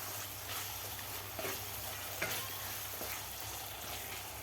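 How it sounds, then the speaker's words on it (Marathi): Cooked masala is stirred in a kadhai while making egg biryani, giving a steady sizzling, frying hiss with soft scraping strokes throughout, close and fairly quiet, with no talking. "परत एकदा आपण याला हलवून घेऊया."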